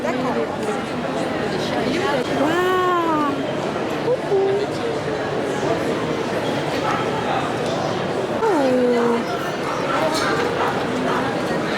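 A large dog barks in short yelps and whines a few times, its pitched cries rising over steady background chatter of people talking nearby.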